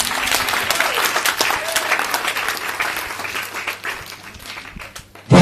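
A church congregation bursts into loud, sustained applause and clapping that fills the room, then gradually thins out before a final loud sound at the end.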